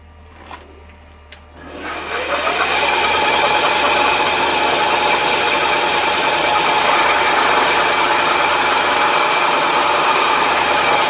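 A smaller drill bit boring a hole on a metal lathe while making quick-change tool holders. A couple of faint clicks come first, then the machine winds up into a loud, steady whirring drone with a grinding cutting texture that continues to the end.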